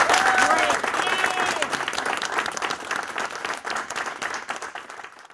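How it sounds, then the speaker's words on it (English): An audience at a city council meeting applauds the mayor's decision to keep the opening prayer; loud clapping with a few voices at the start gradually thins and fades away. "everybody fervently applauded at the idea of keeping the prayer"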